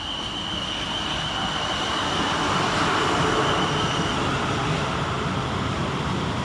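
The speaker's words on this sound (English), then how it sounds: "Arriving next into the station will be 450079, working the 1036 South Western Railway service from Southampton Central" A South Western Railway class 450 electric train arrives at Christchurch station, a steady loud rolling roar of wheels and traction with a faint high whine throughout, swelling slightly mid-way.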